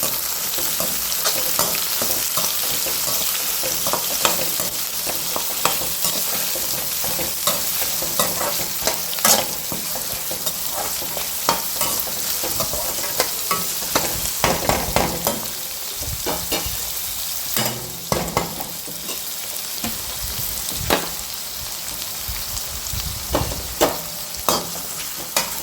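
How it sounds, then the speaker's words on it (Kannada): Onion fries in oil in a home kitchen, a steady dense sizzle throughout with scattered clicks and scrapes of stirring, close and fairly loud, no voices. "ಈಗ ಎಣ್ಣೆಯಲ್ಲೇ ಫ್ರೈ ಆಗಲಿ."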